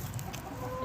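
Chickens clucking on a hobby farm at sunset, a brief soft patch of hen chatter against a continuous outdoor background.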